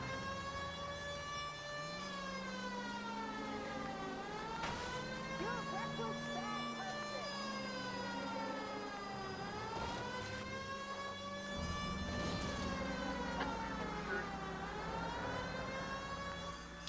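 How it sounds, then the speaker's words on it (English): Wailing emergency vehicle sirens in a car chase video game, several rising and falling tones layered over a steady engine drone, loud and continuous throughout with occasional sharp bursts. "Love the siren noises as well."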